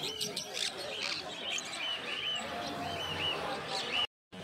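Sun conures chirping at a busy pet market, a scatter of bright tweets and squawks over crowd murmur and nearby talking, with another voice speaking throughout.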